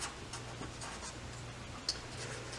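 Quiet pen or marker strokes on a fabric pattern piece for a colorblock tote, a few soft scratchy marks with one sharper tap, close and faint with no voices.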